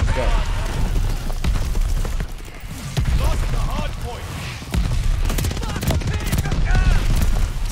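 Rapid gunfire from the video game Call of Duty Vanguard crackles in repeated sharp bursts and single shots, with a dense rumbling battle backdrop and a voice talking over it.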